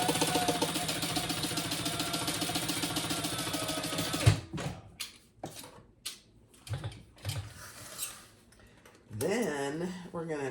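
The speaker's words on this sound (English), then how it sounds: "now we're gonna sew top stitch across this line" A sewing machine top stitches across a leather or fabric wallet, its fast steady whirr running for about four seconds before stopping, followed by short handling noises and a voice talking.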